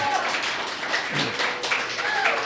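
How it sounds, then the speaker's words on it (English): Audience applause for the winners at a county weights and measures seal awards ceremony, a steady patter of clapping lasting a couple of seconds with a voice talking over it. "let's give all of the winners a round of applause"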